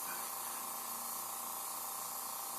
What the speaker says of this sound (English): take a little black, spray it on there, just kind of do it right down the middle